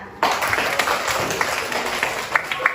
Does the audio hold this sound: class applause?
yes